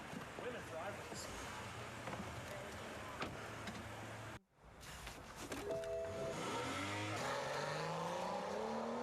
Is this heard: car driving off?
yes